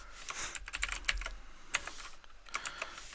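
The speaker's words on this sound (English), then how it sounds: "you can just either type it in" Steady typing on a computer keyboard while entering end-of-year inventory figures into an accounting tracker, with irregular bursts of close, crisp key clicks and short pauses, no voices.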